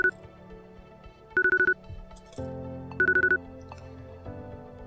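Short bursts of phone keypad tones beep in quick clusters, twice over, against quiet background noise.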